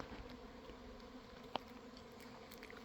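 A swarm of bees drones faintly somewhere off in the Georgia woods during a turkey hunt, a low steady buzz with one sharp click partway through.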